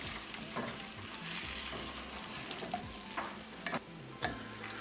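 Paneer, sweet peas and tadka stirred together in a pan for matar paneer, a soft continuous frying hiss with occasional spatula scrapes and light clinks, fairly quiet and without talk.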